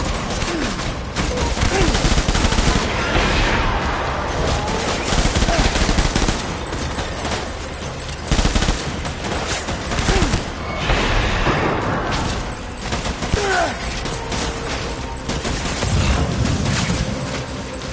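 Sustained automatic gunfire in the Death Stranding game, dense rapid bursts rattling nearly nonstop and loud, swelling and easing in waves with clusters of sharper shots and occasional heavier thumps.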